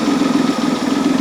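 Citroen XM 3.0 24V engine idling and running roughly, a close, steady mid-pitched drone with an uneven, lumpy pulse.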